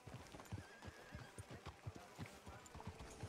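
Horse hooves clip-clop in a steady, close rhythm through a small town in the video game Red Dead Redemption 2, with a horse whinny and faint background activity.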